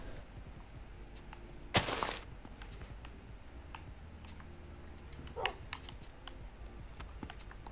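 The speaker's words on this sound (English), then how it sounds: "I hear the dog!" A single loud bark-like burst from a dog in Minecraft stands out, then a fainter one later, over a steady background hiss and soft clicking like keyboard typing.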